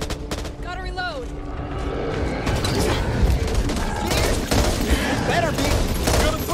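Gunfire in the zombie shooter Back 4 Blood: sustained loud rapid shots and bursts with mechanical clatter run through the whole stretch, alongside in-game voices talking.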